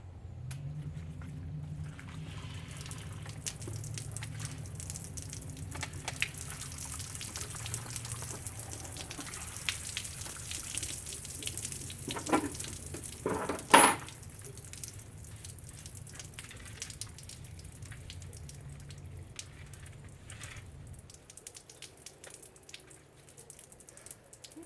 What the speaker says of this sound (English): as soon as I poured it in, it started dripping down through it